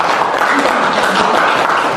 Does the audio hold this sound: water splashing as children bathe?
no